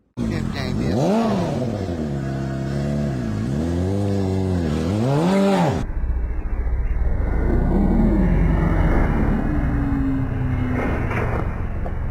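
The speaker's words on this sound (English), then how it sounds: "he was about to fire it up and do a burnout" A motorcycle engine is fired up for a burnout and revs hard several times in rising and falling sweeps, then drops to a rougher, noisier running sound as people talk over it.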